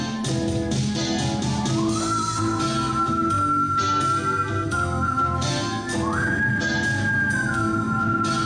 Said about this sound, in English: Now everyone whistle along.